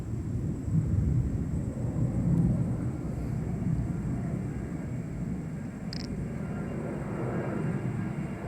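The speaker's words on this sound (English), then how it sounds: "Catch a plane flying across there." An airplane passes overhead during a building thunderstorm over Sandston, Virginia, its steady, distant roar blending with a low rumbling background.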